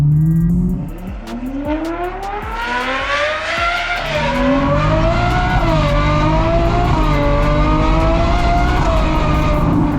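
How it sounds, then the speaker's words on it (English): A race car roars past on a racetrack during a track weekend, with rising engine pitch and gear changes, loud and close, its revving whine sweeping up and holding. "That car always sounds good."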